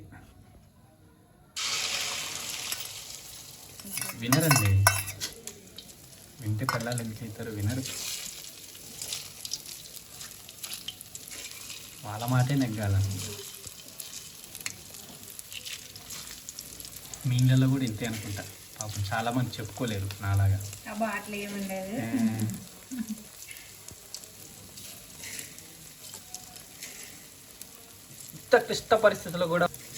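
Onions fry in hot oil in a pan for an omelette, a soft continuous sizzle running beneath a voice talking over much of the scene.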